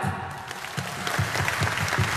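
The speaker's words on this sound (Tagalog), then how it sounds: "Sigaw! Palakpak!" Event crowd in Dubai clapping on cue, a brief dense wash of hands with rhythmic thumps, fairly loud and alone with no clear talk.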